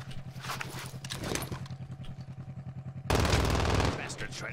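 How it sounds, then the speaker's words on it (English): Automated sentry gun in a Call of Duty multiplayer match, firing a rapid, steady burst of rounds at mid distance, followed by a louder, closer blast near the end, with a player speaking over the gunfire. "Oh, it's a sentry gun."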